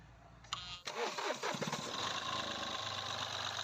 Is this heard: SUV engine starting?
yes